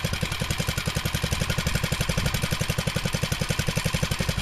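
Small Chinese engine on a Baja minibike idling while warming up after its first start: a steady, rapid low putter with even firing pulses, close and fairly loud, alone with no talk.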